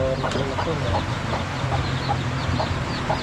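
A hen with about ten chicks, two days old, shut in a coop in a rural province yard, clucking in short repeated calls with chick peeps above a steady background of farmyard noise.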